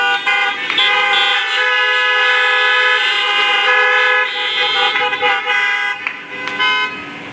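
Many car horns honk together at a school graduation, a dense, sustained chorus of overlapping toots and blasts that fills the whole stretch loudly with little break.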